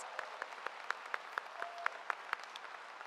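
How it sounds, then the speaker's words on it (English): Applause at a 2022 Utica Academy for International Studies high school graduation ceremony comes across as faint, evenly spaced single claps, about four per second, in a quiet hall. "Please, a round of applause for this graduating class of"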